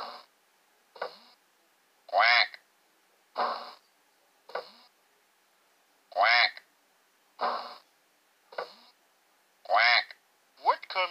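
Cartoon duck quacks in the Millie's Math House educational video game, repeated bursts in a steady pattern alternating with a child-like voice calling out sounds, clear and close.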